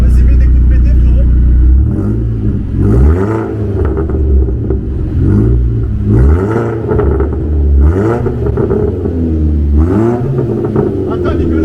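Audi TTS Mk2 with ABT tuning, rated around 340 hp, revving repeatedly in rising and falling bursts with a deep close-up rumble, outdoors in the rain, while people talk over it.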